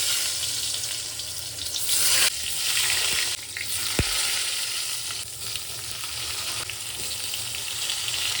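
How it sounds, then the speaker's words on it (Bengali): Eggplant pieces frying in oil in a pan, a loud, steady, close hiss of sizzling with a sharp click partway through and no voices. "শুধু বেগুন কয়েকটা ভেজে নেবো"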